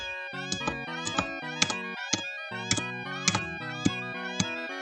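Repeated meows from a cat in The Grey Garden video game, about a dozen short tonal cries in an uneven rhythm laid over a steady harmonic music backdrop, with no talking.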